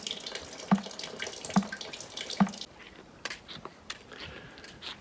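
Water running and splashing as it pours in through a leaking window on a boat hauled out in a boatyard, a steady close wash with a few distinct drips and knocks, fading quieter midway.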